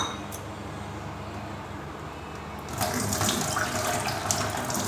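A kitchen tap pouring water into a vessel while making kadah prasad: a quiet room for nearly three seconds, then the tap opens into a steady, close rushing and splashing stream.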